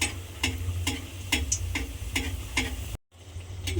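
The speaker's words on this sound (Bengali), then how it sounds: "খুব আস্তে আস্তে কিন্তু এটাকে আমার লাল করে ভেজে নিতে হবে" A homemade snack fries slowly in oil over a low gas flame, a faint steady sizzle broken by regular light ticks and taps, then a brief cut to silence before the frying resumes.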